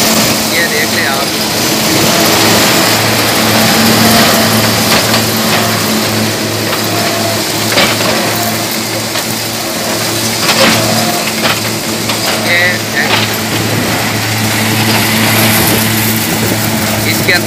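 A harvester converted into a straw chopper cuts and chops crop, giving a loud, continuous engine roar with grinding and crunching, and a voice talks over it.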